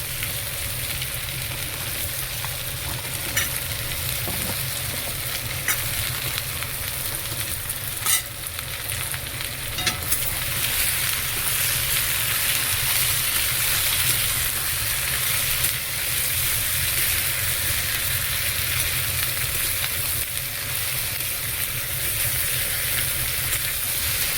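Mixed vegetables frying with lightly fried onions in a pan, a steady continuous sizzle under a low hum, with intermittent stirring and scraping sounds.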